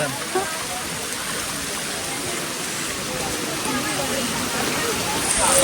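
Heavy rain pours and water rushes down a hill path on the way to the Ekvira temple, making a dense, steady roar that swells slightly toward the end.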